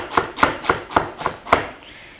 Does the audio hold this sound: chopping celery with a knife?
yes